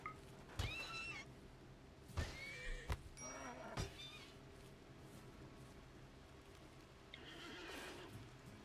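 A horse in the video game RimWorld gives several loud neighs and whinnies, spread irregularly through the clip over a faint background, with a longer whinny near the end.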